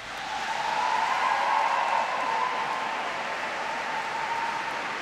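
Graduates at a University of Surrey graduation ceremony give a round of applause in a large hall, steady massed clapping that builds quickly, peaks, then eases slightly while continuing.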